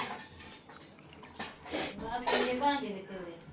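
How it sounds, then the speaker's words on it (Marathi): Pots, dishes and cutlery are banged and clattered about in a home kitchen, giving several sharp metallic clanks and clinks in quick bursts. A person talks over the noise. "दुसरं म्हणजे मला भांडी का आपटताय?"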